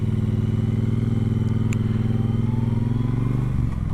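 A Triumph motorcycle ticks over and pulls away, its steady close engine note rumbling with a regular low beat before the pitch shifts near the end as it moves off.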